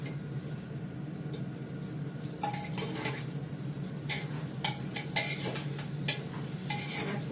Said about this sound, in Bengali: মাংসটাকে ভালো করে কষাচ্ছি